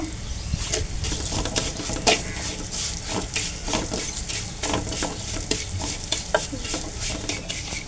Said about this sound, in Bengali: অল্প একটু ঘি দিয়ে দিব তেলার সেমাইটা দিয়ে দিব হালকা একটু বাজিয়ে নিব